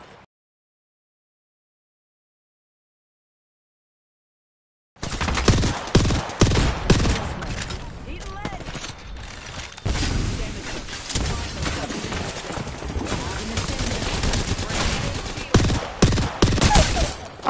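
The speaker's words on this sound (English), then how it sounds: "watch your weapon and fire" Sustained loud gunfire in an online shooter video game, dense rapid bursts and shots continuing without pause after several seconds of silence, with faint voices mixed in.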